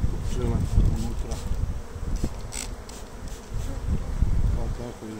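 Honeybees in an opened hive buzz during a varroa treatment spray, a close, fluctuating drone with swelling and fading pitches, while a person talks over it.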